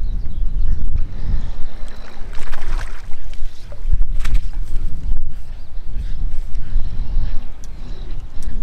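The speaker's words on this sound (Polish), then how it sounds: "ten wiatr troszeczkę Wam przeszkadza tutaj, niestety." Steady wind buffets the microphone beside a fishing pond during a match and feeder angling competition, a loud, continuous low rumble with gusty swells and no clear voices.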